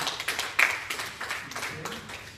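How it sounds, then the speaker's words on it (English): Brief scattered applause from a conference audience after an ecommerce branding talk, a few claps rising and fading quickly, with a voice speaking over it. "Please, can we clap for me?"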